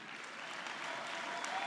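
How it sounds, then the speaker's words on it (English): Award recipients at a Hall of Fame and housing and economic development awards ceremony receive a brief, steady wash of applause from a crowd, faint and even throughout the short stretch. "give a real round of applause to all of the award recipients"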